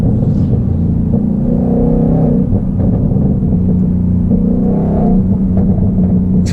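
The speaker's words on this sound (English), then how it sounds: "Actually, it does have some pretty loud pops and bangs," Supercharged Ford Mustang exhaust in normal mode, a steady loud low rumble from inside the car with brief crackling pops and bangs breaking through around the middle and again near the end.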